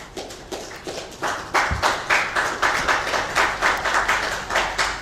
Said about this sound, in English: I think deserves a huge round of applause